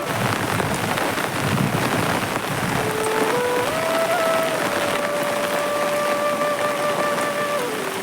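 Heavy rain pours steadily in a dense, even hiss on a footpath by a village percolation pond, with a faint tonal hum rising and holding in the background.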